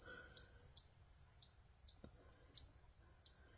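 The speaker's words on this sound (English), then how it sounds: "there's this bird chirping out here" A bird outdoors repeats a high, thin chirp about every half second, faint against soft background noise.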